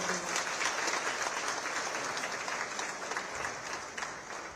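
Audience applause welcoming India's Minister of Commerce and Industry at the inauguration of an enterprise and service tower in SEEPZ-SEZ, a steady, fairly quiet wash of many hands clapping that holds evenly throughout.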